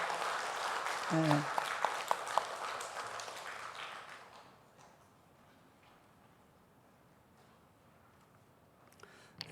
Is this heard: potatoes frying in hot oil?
no